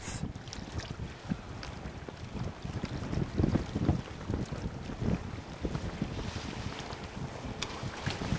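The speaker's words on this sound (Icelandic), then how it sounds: "Mitch keyrir bátinn og Newman stingur sig" A motorboat is driven during a film stunt shoot on the water, its engine churning under heavy wind buffeting the microphone, with the rough, uneven rumble swelling midway.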